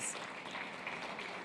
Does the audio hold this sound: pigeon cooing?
no